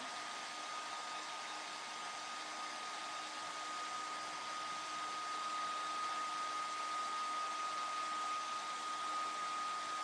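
A handheld dryer blows a steady, even whoosh at close range with a faint whine, drying something wet without pause.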